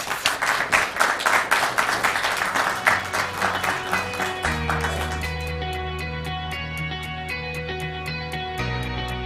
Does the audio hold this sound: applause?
yes